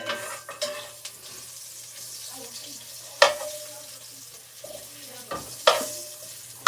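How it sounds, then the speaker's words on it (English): Ginger frying for curry, stirred in a pan, with a soft continuous sizzle under occasional sharp scrapes and clanks of a utensil against the pot, plus a low steady hum in the background. "You want to stir the ginger as much as possible because you want that flavor then."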